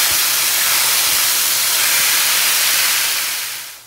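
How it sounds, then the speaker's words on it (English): Ground turkey browning in a frying pan for sloppy joes, giving off a loud, steady hiss of sizzling that holds evenly and then fades away at the very end, with no voices. "So go ahead and get your meat nicely browned"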